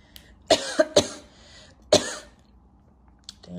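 Several sharp, close coughs in a quiet indoor room: a quick pair of bursts, then a single harder cough, followed by faint throat clearing.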